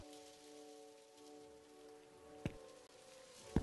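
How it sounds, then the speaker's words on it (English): Steady rain in a convenience store game, a constant even hiss with a held tonal hum beneath and two sharp louder hits near the end, no voices. "It's raining cats and dogs out there."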